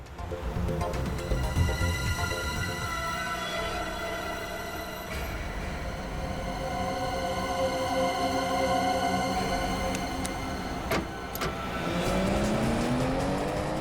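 A car drives steadily along a road with a continuous engine hum and road rumble, rising slightly toward the end as it accelerates, with no talking.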